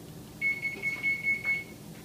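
A kitchen oven sounds a short run of about five high, even beeps as it finishes preheating, fairly quiet over a soft room hum, with no voices.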